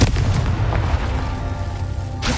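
Confringo spell blasts in the Hogwarts Legacy game: a deep, booming explosion opens, then a rolling rumble trails off for about two seconds.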